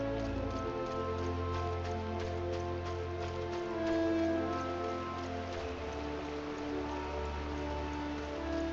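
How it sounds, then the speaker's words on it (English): Steady rain falling in the Gridania area of the video game Final Fantasy XIV, a soft continuous patter laid over sustained background music, with no voices. "Whee! It's raining."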